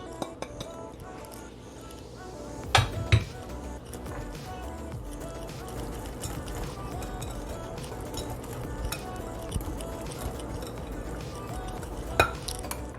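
Spoons and bowls clinking as salt, allspice, ground ginger, cinnamon and nutmeg go into banana muffin mix, with a few sharp clinks and soft scraping against a quiet kitchen background.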